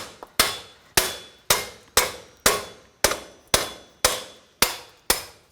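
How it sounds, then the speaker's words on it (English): Hammer striking a rusted wheel bearing on a 2014-2018 Nissan Rogue to tap it out of its bracket: ten sharp metallic blows at a steady rhythm, each with a short ringing decay, close and loud. "using a hammer and putting the bolts back in. We're just going to tap it out."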